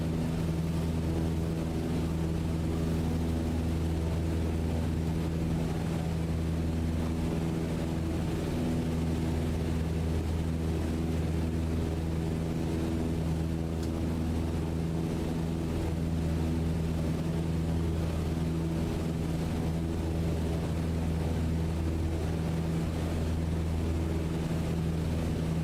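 A propeller aircraft engine in Microsoft Flight Simulator 2020 holds a steady, loud droning hum, flying low over trees after a throttle increase. The tone stays even throughout, with no voices.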